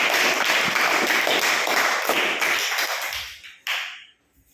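A classroom group claps to congratulate a student, a dense burst of many hands applauding that fades out toward the end, followed by a single sharp clap.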